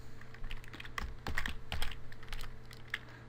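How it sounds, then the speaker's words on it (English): Steady run of keystrokes on a computer keyboard as a phone number is entered, close and fairly loud, irregular bursts of clicks with a few sharper key hits and no talking. "I'm going to type in my number"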